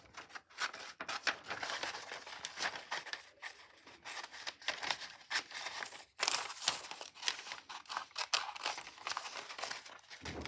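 Scissors cutting out a paper cube net for a money box: close, crisp snipping and crinkling paper, irregular cuts and rustles running continuously at moderate loudness, with no talk.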